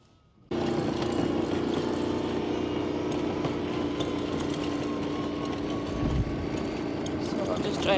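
A farm vehicle driving around a field of ewes and lambs, its engine starting abruptly and then running in a steady, close, mechanical drone with a rattling texture that persists throughout.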